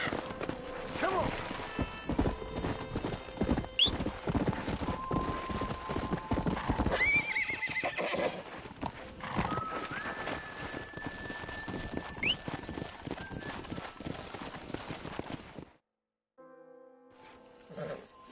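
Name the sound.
horse hooves and neighing, video game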